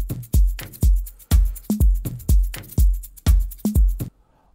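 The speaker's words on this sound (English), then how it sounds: "So it's a nice shaker." A steady Afro house drum loop with deep kicks and snappy hits, a bright shaker loop rustling continuously on top, looping evenly for several bars before cutting off.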